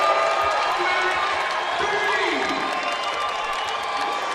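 A Sioux Falls D-League basketball arena crowd cheers and applauds after a three-pointer, a loud continuous roar of voices and clapping that holds steady throughout, with a commentator speaking over it.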